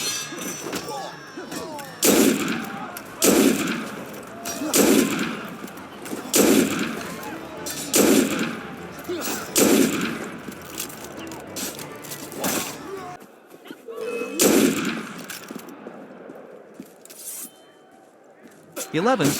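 Gunfire in Assassin's Creed Unity, sharp reports cracking out in a steady run of roughly one every second, loud and close, with a few trailing off toward the end and rumbling game ambience in between.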